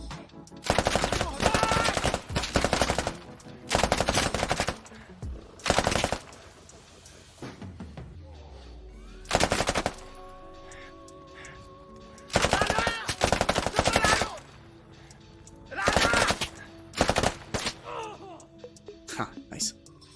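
Machine gun fire in the military shooter game Squad, several sustained bursts of rapid automatic shots separated by short gaps, loud and close, with game effects and faint background sounds between bursts.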